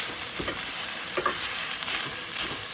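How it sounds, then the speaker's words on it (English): Ingredients for sausage bread sauteing in a pan, a steady close sizzle and crackle with light stirring sounds, no talking. "now we're just gonna saute this"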